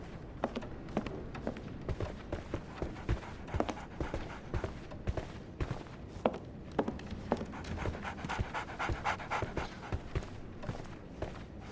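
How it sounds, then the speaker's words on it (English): A dog pants rhythmically and steadily in a Sherlock Holmes: The Awakened game scene, with quick breaths at close range over a low background and no talking. "So, Barnes has a dog now."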